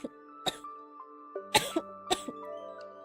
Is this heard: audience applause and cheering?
no